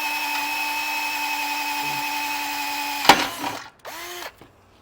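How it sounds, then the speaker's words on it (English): A power drill spins a bit through a hole while fitting a Roadmaster Direct-Connect base plate kit to a 2021 Cadillac, giving a steady, close, high whine for about three seconds before cutting off with a clatter and rustling handling noise. "you can just take a drill bit, run it all the way across"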